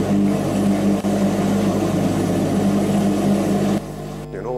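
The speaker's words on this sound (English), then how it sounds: "You know what this is? A washing machine." A washing machine runs with a steady, loud mechanical hum and low droning tones, then the sound drops off abruptly near the end.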